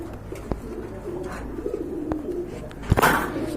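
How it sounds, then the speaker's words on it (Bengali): Soft, low coos from pigeons of various local and foreign breeds murmur repeatedly in the background, broken by a few sharp clicks and a brief flutter near the end. "বিভিন্ন প্রজাতির কবুতর রয়েছে"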